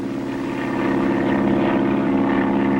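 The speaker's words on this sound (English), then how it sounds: "Listen, I hear a plane." A cartoon airplane drones steadily overhead, a loud, continuous propeller engine hum that swells slightly as it passes, with no voices.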